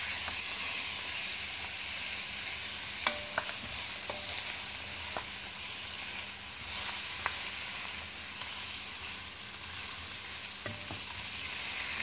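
Fully cooked beef sizzles and fries steadily in a hot pan for beef kabsa, a continuous close hiss broken by a few light clicks from stirring, with no talk.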